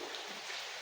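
Steady rainfall makes a continuous, even hiss with no distinct drops standing out, fairly faint and unbroken, with no voices.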